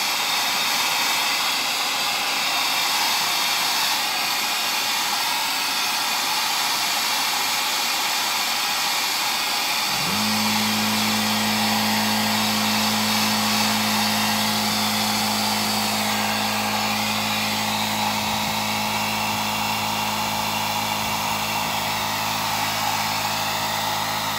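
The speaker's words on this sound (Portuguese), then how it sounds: "o secador de cabelo." A hair dryer runs on a painted battle tank miniature, a loud steady blowing roar that turns into a stronger, lower hum about midway and then holds steady, close to the mic.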